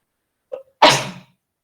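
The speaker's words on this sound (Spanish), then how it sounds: "Ay, perdón. Estornudé. Me dio alergia." A single close, loud sneeze in a quiet room, with a short sharp intake just before the burst.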